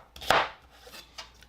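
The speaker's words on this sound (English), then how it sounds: "I'm just rough chopping these because I know I'm going to blitz them in the blender here" Knife rough chopping vegetables for a sofrito on a cutting board: one firm thunk followed by a couple of lighter, softer chops with short gaps between.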